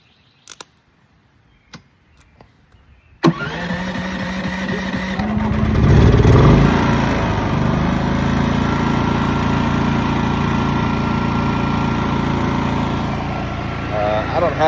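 A DuroMax XP 9500ih inverter generator running on propane from a 40-pound tank starts up after a few faint clicks, its engine ramping up then settling into a steady, fairly loud hum that continues to the end.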